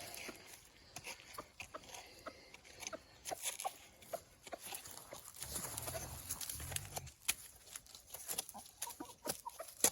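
Chickens cluck and chatter softly nearby, scattered irregular calls with small rustling sounds in between.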